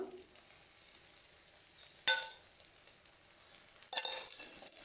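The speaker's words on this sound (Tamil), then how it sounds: "இன்னும் ஒன்று ஊற்றி வச்சுருக்கேன் இதுலேயும் அப்படியே எண்ணெயை விட்டுக்கலாம்" Oil drizzled onto a pori moong dal dosa on a hot pan, two sudden bursts of loud crackling sizzle between quieter stretches of soft frying.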